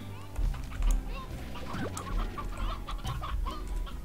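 Rooster clucking in the video game Slime Rancher, several short clucks and squawks at close range over a low musical backdrop.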